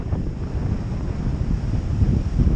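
Strong wind buffets the microphone in a steady low rumble that gusts louder toward the end, with no voices.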